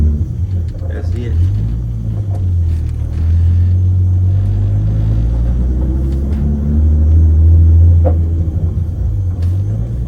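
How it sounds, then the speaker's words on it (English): A Lexus SC300 on the road with a noisy Cusco differential, heavy low engine and drivetrain rumble droning steadily up and down in pitch from inside the cabin. "That damn Cos diff makes a bunch of fucking noise back there."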